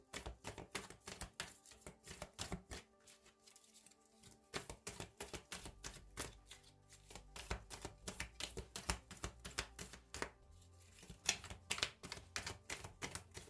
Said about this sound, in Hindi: आपके सामने ही मैं शफल कर रही हूँ आपके कार्ड